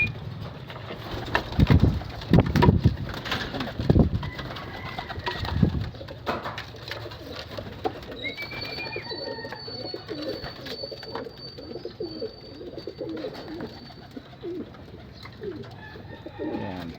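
Pigeons coo in low, repeated throaty bursts, loudest early on and fading later, with faint chirps and a thin high tone under a steady background hum.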